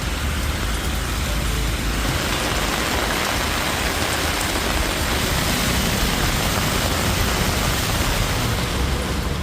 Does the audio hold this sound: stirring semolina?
no